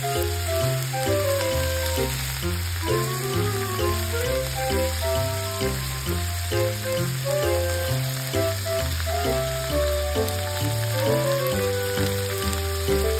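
Horumon offal fries in a pan with a steady, dense sizzle and crackle that runs without pause, set against rhythmic background music.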